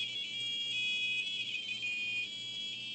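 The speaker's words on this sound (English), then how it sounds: "The speaker beeps at a frequency matching the note for that key" An infrared-sensor piano's small speaker beeps steady electronic tones that shift pitch slightly as different keys are triggered, sounding continuous and fairly loud with a faint low hum underneath.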